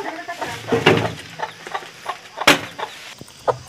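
Hen clucking near two newly hatched chicks, a series of short close clucks and calls at an irregular rhythm with faint peeps between, fairly clear with little background.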